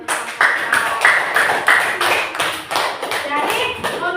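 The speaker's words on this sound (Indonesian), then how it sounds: "Oke, beri tepuk tangan dulu." A classroom group claps hands in a loose, uneven burst of sharp slaps with some tapping, while a few voices and squeals rise over the clapping.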